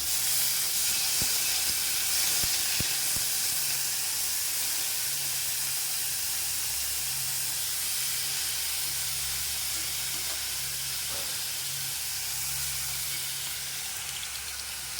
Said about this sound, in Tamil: இங்கே வந்து கடுகு வெடிக்குது.